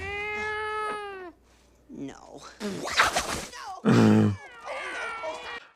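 A cat meows in a scene from the Muppet Christmas Carol film, one long harmonic call followed by further short mewing and caterwaul-like cries, with speech-like voices between them.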